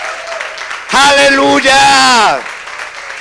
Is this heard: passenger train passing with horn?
no